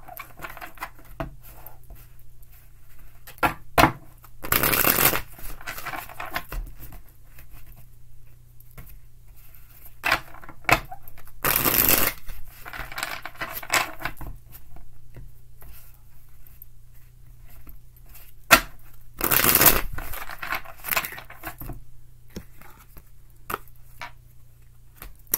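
Tarot cards being shuffled in a quiet room: three separate brisk riffling bursts, close and crisp, spread several seconds apart, with faint soft handling rustles between them.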